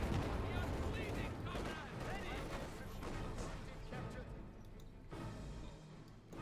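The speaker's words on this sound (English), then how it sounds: "Machine gun there, though." Machine gun fire crackles through a Company of Heroes 2 battle, a dense, continuous stream of gunshots and heavier artillery-like blasts running under a commentator who talks throughout.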